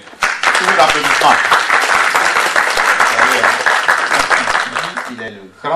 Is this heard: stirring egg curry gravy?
no